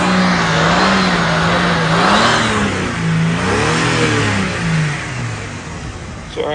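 Used car engine revving up and down, loud and close, with a steady low exhaust drone that swells and falls in pitch, hinting at a possible exhaust leak; no talking.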